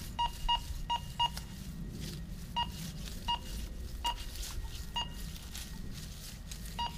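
A Minelab Go Find 20 metal detector gives a string of short, clear electronic beeps in pairs and singles during outdoor detecting, over a low rumbling background.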